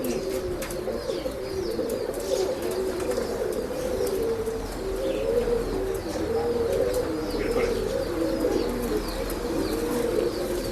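Breeding pigeons, including a Roshan pilanka male, coo in a low, continuous warble that runs steadily throughout, with faint chirps and wing rustles over a busy loft background; no talk.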